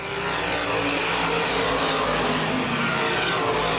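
Open wheel modified race cars racing at Baer Field Speedway, a dense continuous roar of several engines blending together at full throttle, loud and steady throughout with no talk audible.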